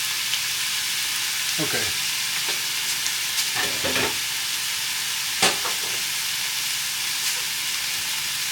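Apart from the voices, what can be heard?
potato egg bake mixture sizzling as it cooks in a pan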